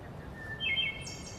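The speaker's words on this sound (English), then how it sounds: "So you can take a woodland soundscape like this, and you can listen to the sounds of the birds" Birds sing in a woodland, several thin tonal calls and chirps rising above a soft low background hum, fairly faint and brief.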